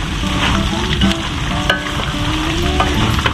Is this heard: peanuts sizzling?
yes